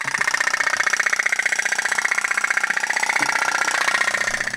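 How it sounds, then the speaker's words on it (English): A small Japanese-made putt-putt pop-pop steam toy boat engine runs steadily, a rapid continuous pulsing putter with a buzzy metallic tone, close and alone. "Here's the oldest putt-putt boat I have. It was manufactured in Japan."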